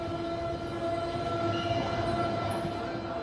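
An airport terminal train hums steadily while moving, with a sustained electric whine and low rumble and no voices.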